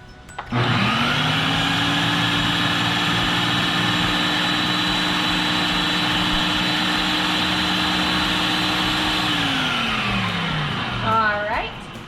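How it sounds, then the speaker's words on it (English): A blender purees spicy jalapeno salsa in one loud, steady whir lasting about ten seconds, then winds down and stops near the end. "Puree it again real quick."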